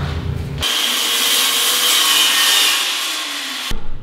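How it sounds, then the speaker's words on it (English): A circular saw cuts through a wooden backboard in one continuous, loud, close pass of about three seconds, a whining rasp that starts and stops abruptly with no talking. "I finally invested in a circular saw."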